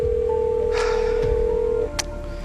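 Telephone keypad tones beep as a number is dialed, followed by a steady tone and a brief burst near the end, close and clear with no voices.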